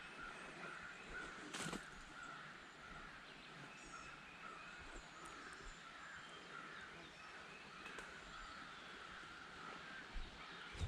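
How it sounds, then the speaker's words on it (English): Crows caw intermittently at a distance over a steady outdoor background hiss beside a creek, with a sharp rustle or knock partway through. "Hear the crows over there, hooting and hollering."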